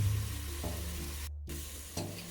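Mushrooms, coriander and spring onion are stirred in a pan for ramen, giving a steady low sizzle with soft scraping strokes and a brief clatter near the end, with no talking.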